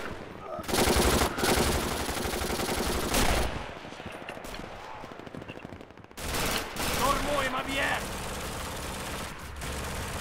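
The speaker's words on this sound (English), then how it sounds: "Still on the heavy fire here." Heavy gunfire in Red Orchestra, a World War II shooter, with dense bursts of rifle and machine-gun fire crackling loudly and continuously across the scene, brief lulls between volleys, and a voice talking faintly underneath.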